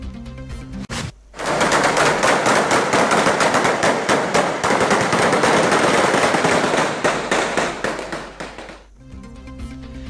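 Rapid, dense bursts of gunfire ring out near a polling station on an election day in Pakistan, loud sustained volleys lasting about seven seconds before stopping abruptly.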